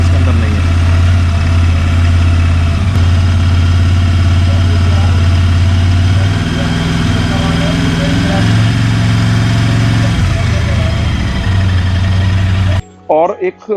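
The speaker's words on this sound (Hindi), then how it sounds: "लगभग 2 से 3 हज़ार आरपीएम के आसपास मेरी मोटरसाइकिल का आरपीएम है" A Royal Enfield Interceptor 650 twin-cylinder motorcycle engine runs steadily at around 2,000 to 3,000 rpm, a loud, close, low throb that dips and shifts slightly mid-way before cutting off at the end, with someone talking over it.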